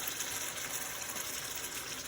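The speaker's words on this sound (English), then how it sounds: "Now I'm going to add in my kidney beans." Canned kidney beans and their liquid pour steadily into a chili pot, a continuous wet gushing rush that stays even and fairly faint throughout, with no voices.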